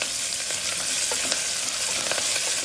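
Vegetable semiya upma fries with garam masala, a dense continuous close sizzle with light stirring scrapes throughout and no talk.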